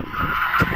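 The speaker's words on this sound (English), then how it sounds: "Tyres squealing in protest again" Tyres of a Mini squeal hard through a corner at a hillclimb race, a loud sustained high screech lasting the whole short moment with engine noise beneath.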